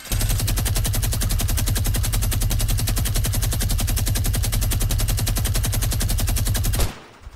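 Rapid, continuous automatic gunfire in the Fortnite video game, a steady fast rhythm of loud shots lasting about seven seconds before cutting off, with no talking over it.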